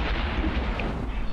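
A tank is destroyed by enemy fire in World of Tanks, a heavy booming rumble that fills the short moment with dense, low, explosive noise.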